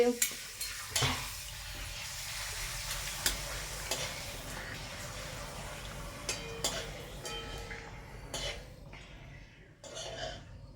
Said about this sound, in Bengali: দেখুন বন্ধুরা এবার পাঁপড়টা ভেজে নেওয়া হচ্ছে